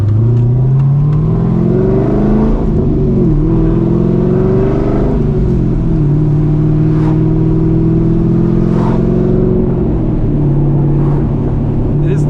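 A Chevrolet Corvette C6 Z06 with a six-speed manual pulls hard in second gear. Its engine note climbs loud and close in a sustained rising drone, then eases and settles, heard from inside the car.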